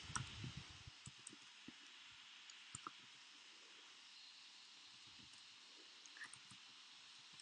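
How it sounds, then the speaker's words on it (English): Soft, irregular clicks of keys being typed, close by and fairly quiet, with short pauses between bursts over a steady background hiss. "So I'm just typing this in"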